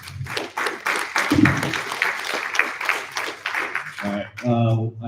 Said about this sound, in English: Round of applause for Pado Labs.